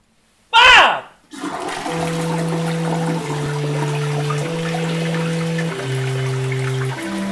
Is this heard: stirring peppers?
no